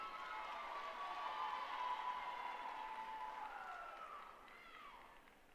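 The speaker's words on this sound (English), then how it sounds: "Give them a round of applause." Faint, distant applause from the crowd at a collegiate women's gymnastics meet honoring the uneven bars champions, a steady wash of clapping with a thin whistle-like tone running through it.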